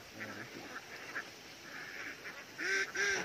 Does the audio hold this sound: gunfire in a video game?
no